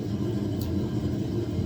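A sedan with a cheap street exhaust idles in a low, steady rumble, close and even for a short stretch, with no talk.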